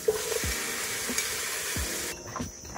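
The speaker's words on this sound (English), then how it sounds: "I fry these for about 1 to 2 minutes" Ingredients for mackerel noodle soup fry in a pan with a steady, close hissing sizzle, broken by a few soft stirring knocks, and no talking.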